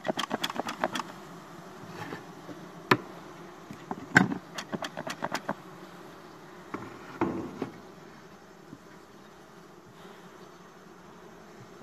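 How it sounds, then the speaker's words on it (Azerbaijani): Honey bees around an opened wooden beehive box produce a faint, continuous buzzing hum, broken by sharp clicks and knocks from handling the hive frames. "Və bir başqa arı yeşiyini istəyirəm açın."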